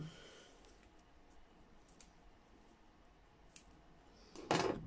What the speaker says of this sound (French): Mes petits ciseaux.